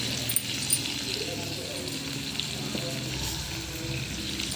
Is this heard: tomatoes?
yes